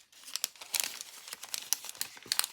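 Washi tape being cut and handled: quick, close crinkling and crackling bursts with a few sharp snips, faint overall and with no voices.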